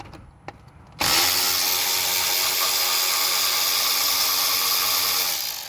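A battery-powered drill spins out valve cover bolts on an 1988-98 GM pickup. After a second of quiet with a couple of small clicks, the drill kicks in loud and close and whirs steadily to the end.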